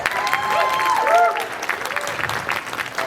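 An audience claps in a burst of applause at a fan expo improv show, loud at first and then thinning into scattered claps, with some voices mixed in.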